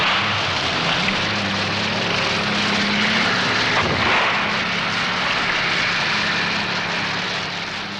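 WWII supporting aircraft flying over the Normandy battlefield amid bombing: a loud, continuous propeller-engine roar with heavy rumbling underneath, holding steady before easing slightly at the end.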